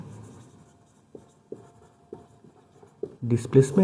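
Chalk or marker strokes on a board as a physics teacher writes a velocity equation, a series of short scratchy taps and scrapes in a quiet room, ending with a louder burst of speech.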